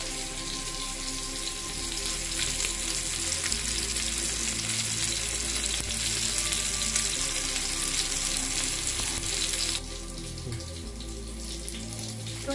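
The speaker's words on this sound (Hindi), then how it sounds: "अब हम इसे 3 मिनट के लिए धीमी आंच पे पकाएंगे और इसे हम टर्न नहीं करेंगे 3 मिनट तक।" Fish frying in a pan over low heat, a steady close sizzle that continues throughout with no talking.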